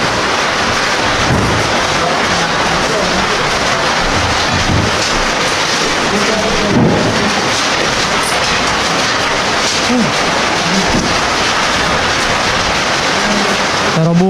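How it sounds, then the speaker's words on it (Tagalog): Heavy, dense rain roars steadily and loudly at a building site during drywall and gutter work, with occasional deep rumbles of thunder underneath; no talking. "Lakas na naman ang ulan."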